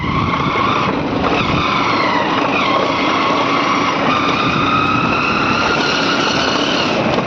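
A motorbike speeds along a mountain road, its engine a loud, steady high-pitched whine with shifting revs that fills the whole stretch without a break.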